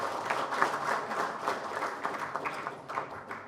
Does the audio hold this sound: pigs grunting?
no